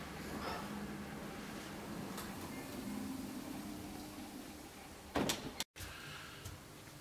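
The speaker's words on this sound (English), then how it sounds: "now I am opening the door" Office door fitted with an access-control lock, opened after fingerprint recognition: faint mechanical hum and shuffling, then a sharp click-clack of the latch and the door moving near the end.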